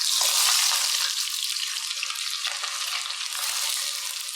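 Sliced onions frying in about two cups of hot oil in an open pot, giving a steady, loud, dense sizzle that runs throughout with slight crackling variations and no talking.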